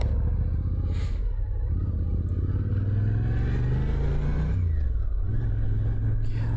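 A car engine droning steadily while driving on an open road, a constant low rumble with a brief rising shift in pitch midway, heard from inside the cabin.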